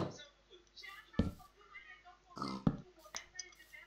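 Grunting pig oinks from Minecraft, a few short rough snorts spaced over several seconds, moderately loud against quiet game background.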